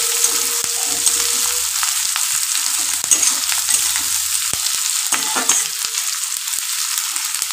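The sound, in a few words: onions frying in a pan for chicken curry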